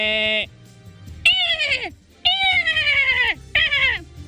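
A man imitates a goat's bleat with his voice, giving three or four wavering, nasal cries of varying length, loud and close, separated by short pauses.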